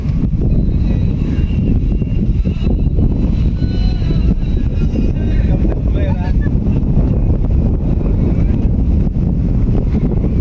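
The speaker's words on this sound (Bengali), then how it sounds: "এমন পরিমাণ বাতাস বাতাসে উড়াই নিয়ে যাইতেছে এরকম একটা অবস্থা" Strong wind blows outdoors along a tree-lined village road, roaring and buffeting the microphone in a constant, heavy rush.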